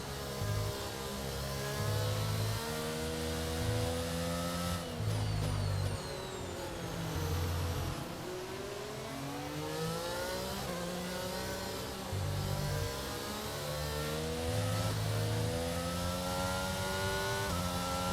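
Formula 1 car in the racing game F1 22 at the Portugal circuit, engine climbing steadily through the gears with rising whine and periodic shifts, loud and continuous, no talking.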